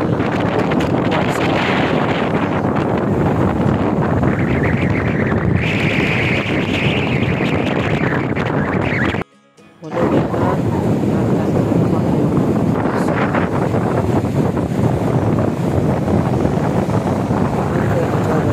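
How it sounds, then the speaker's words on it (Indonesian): Strong wind buffets the microphone on a beach, a loud continuous roar with gusts that briefly cuts out before returning at full force. "dia boleh dengar angin yang begitu kuat"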